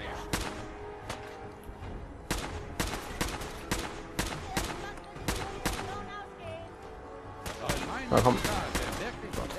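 Gunfire in the video game Fallout 4, a rapid series of sharp shots from a shooter, loud and repeated in irregular bursts, with someone briefly talking over it.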